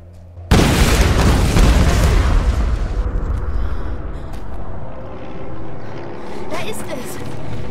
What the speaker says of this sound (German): Zünde ich mal an, das explodiert doch dann aber alles